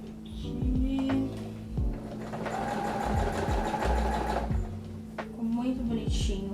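A sewing machine stitches fabric in steady rapid bursts, starting and stopping several times, with the needle's fast chatter close and clear and faint handling noises between runs.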